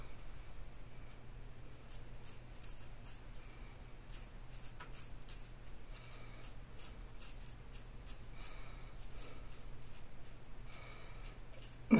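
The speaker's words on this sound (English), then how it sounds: "This razor, I don't know if you can hear it, but it likes to talk." A razor scrapes through shaving lather on skin in quiet, close, scratchy strokes that come in short irregular bursts, each a crisp rasp, with soft handling noises between them.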